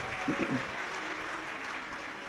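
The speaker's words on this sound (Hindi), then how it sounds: "एक बार जोरदार ताली बजाकर उनके लिए साधुता।" Steady applause from an audience at a Hindu religious katha gathering, dense broadband clapping held at an even level throughout, with a brief murmur of voices near the start.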